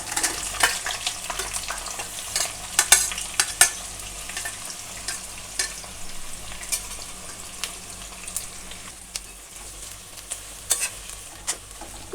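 Three medium onions, finely sliced, fry in a pan for chicken biryani, a steady sizzle broken by repeated scraping stirs with a spoon, close and clear with no talking.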